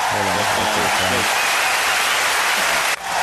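Applause sound effect dropped into a horror film podcast: a dense, even burst of clapping with a voice talking over the first second, ending in a sudden cut.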